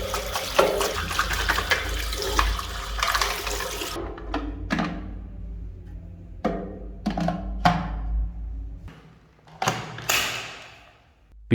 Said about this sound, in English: Pour dirty water and debris out.